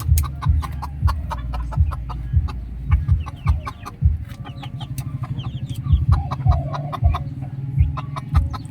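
Hens of the red junglefowl cluck repeatedly in short bursts, fairly close, with other chicken calls scattered through the clip and no talking.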